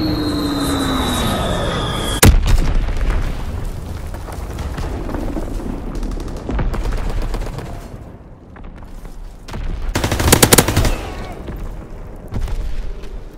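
Laser bombs explode in Call of Duty WW2, a heavy booming barrage with rumbling blasts and sharp cracks, a loud impact near the start and another dense burst later, under aircraft drone and game noise.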